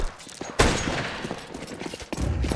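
A scout sniper rifle shot rings out in Counter-Strike 2 during a competitive match, one sharp loud crack followed by a second burst near the end amid game noise.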